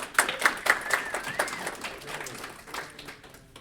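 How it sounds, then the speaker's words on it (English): Modest audience applause at a tech presentation, many hands clapping close by with a brief whistle early on, thinning gradually as the clapping fades out. "All right, give a round of applause for Daniel."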